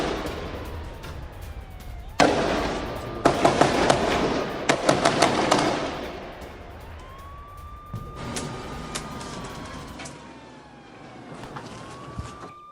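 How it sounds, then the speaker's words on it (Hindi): Sharp bursts of gunfire from a firefight between Israeli IDF troops and Hamas fighters in Gaza, heard as clusters of loud cracks and pops over a background siren wail, with a steady siren tone continuing afterward. "जहां एरा और धीशेह में गन फाइट हुई है।"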